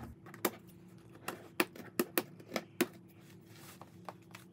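Scissors snip through plastic packaging to free an American Girl doll: a quiet, close run of sharp irregular clicks and cuts with faint rustling between them.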